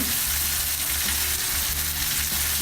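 Osso buco shanks sear in a pan with a loud, constant frying sizzle, close and unbroken, with no speech.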